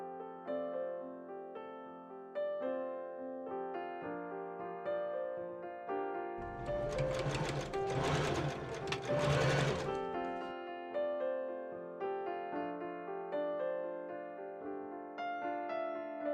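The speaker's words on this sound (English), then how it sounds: "Then I machine sew all my seams." Sewing machine stitching silk seams for a Regency spencer, its quick mechanical chatter running in steady bursts, with a louder rattling stretch in the middle, close up and alone.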